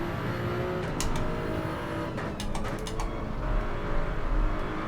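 A race car in Gran Turismo 7 powers out of a chicane at Monza. Its engine drones steadily and the revs climb, with a few short shift blips, close and continuous.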